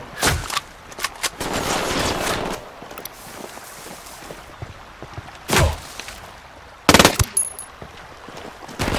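Automatic gunfire in the tactical shooter Ghost Recon Wildlands: several sharp, loud bursts and single shots separated by quieter gaps, with little talk over them.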